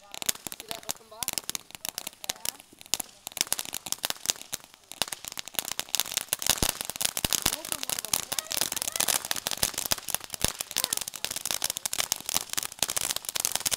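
Fireworks and firecrackers crackle and pop in dense, rapid bursts on New Year's Eve, loud and close, with voices talking over them throughout.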